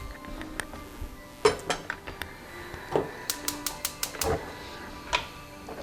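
A pot holding an onion is set on the stove with a run of sharp metallic clinks and knocks. The taps are scattered at first, then come in a quicker cluster near the end.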